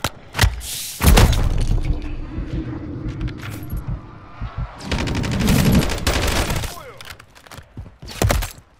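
Bursts of automatic gunfire in Call of Duty Modern Warfare 3 Zombies, loud rapid volleys in two main clusters with scattered single shots and thuds, interspersed with game voices calling out.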